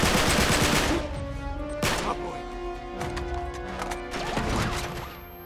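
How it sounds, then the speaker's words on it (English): Gunfire in the video game Uncharted 3, with rapid bursts and sharp shots crackling through a busy game mix. Loud volleys land around the one- and two-second marks and again near the end. "Where are you shooting me from?"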